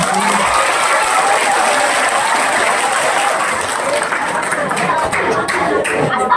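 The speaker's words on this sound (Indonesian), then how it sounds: "Tepuk tangan dulu." Sustained applause from an audience at a Nuzulul Qur'an religious lecture, loud, dense and continuous clapping filling the whole stretch, with a faint voice briefly audible at the start.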